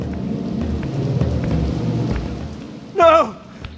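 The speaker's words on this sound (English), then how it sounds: "rain should be melting me right now" Rain and thunder in the PS1 game Legacy of Kain: Soul Reaver: a steady low storm rumble and rain wash, then a sudden sharp warbling game effect near the end.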